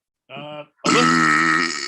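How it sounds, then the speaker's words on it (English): A person burps loudly after eating peanut M&Ms: a short voiced belch, then a longer, louder, drawn-out one close to the listener. "Did I burp out loud?"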